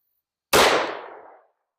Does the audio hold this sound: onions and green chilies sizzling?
no